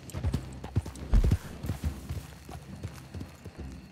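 Horse hooves clip-clop on the ground in the video game Red Dead Online, a close, uneven trotting rhythm of sharp knocks with no speech over them.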